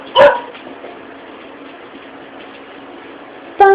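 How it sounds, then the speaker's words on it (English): Hound dogs react to passing sirens with two short bursts of barking or yelping, one at the very start and one at the end, over a steady low background hiss. "Now we have hound dogs."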